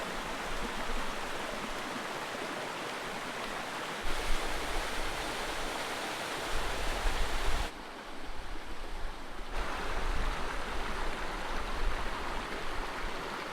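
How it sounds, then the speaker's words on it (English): Steady, dense rush of a mountain river and waterfall in a valley on Corsica's GR20 route, a continuous broadband roar that shifts slightly in level as the position changes. "there's just this waterfall, and or this river anyway, and it's got these beautiful pools the whole way down"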